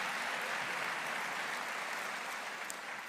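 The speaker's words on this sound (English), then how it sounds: "you can clap for a couple paved roads." Dense, steady applause from a crowd at a city mayor's State of the City address in Atlanta, a continuous wash of clapping at even loudness throughout.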